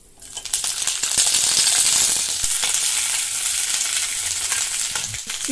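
Vegetables for a Bengali niramish chorchori drop into a hot pan over fenugreek seeds and break into a loud, close, steady sizzle and fry that holds on with a few clatters from stirring, with no voices.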